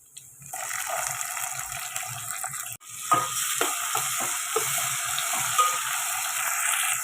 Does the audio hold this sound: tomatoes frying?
yes